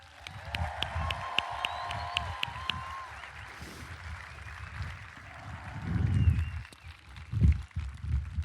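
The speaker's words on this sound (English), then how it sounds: "let's give this country a round of applause" A crowd at a US Air Force basic military training graduation ceremony, heard as distant, diffuse applause and cheering mixed with faint tonal sounds and low rumbling swells, spread across a large space.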